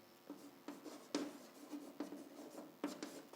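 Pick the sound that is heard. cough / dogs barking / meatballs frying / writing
writing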